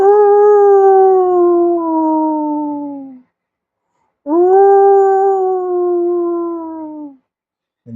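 A voice imitates a dog with two long, slowly falling howls, each about three seconds, loud and close with a short pause between them.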